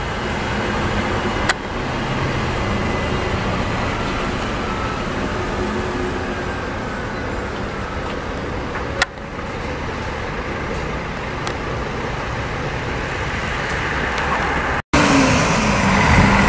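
Steady traffic rumble from an interstate bus moving through a Brasília bus station, a continuous engine drone with passing vehicles nearby, one sharp knock near the end, and no talk.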